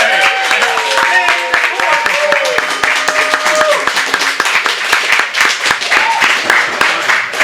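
An audience in a city council meeting room applauds, a burst of many hands clapping close by that rises quickly and carries on steadily for several seconds.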